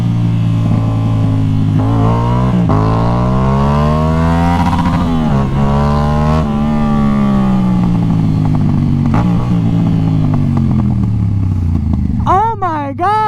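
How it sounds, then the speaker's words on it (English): A stunt motorcycle engine being ridden roars loud and close, its revs rising and falling in long sweeps, ending in a few sharp high revs, with a voice partly over it. "I'm riding a freaking stunt bike"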